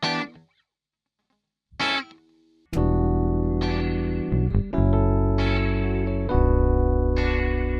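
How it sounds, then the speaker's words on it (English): Electric guitar notes and chords through the Springs spring reverb plugin by Audio Thing, with splashy, boingy tails; a few sparse plucks at first, then sustained strummed chords ringing out. "This is the best by Country Mile spring reverb out there."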